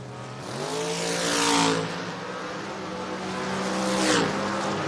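A 73 Nova and a Camaro race at a drag strip. Loud engines rev with rising tones, and two bursts of roaring acceleration swell and fade, one after the other, heard from nearby.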